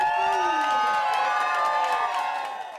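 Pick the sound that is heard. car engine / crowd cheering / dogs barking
crowd cheering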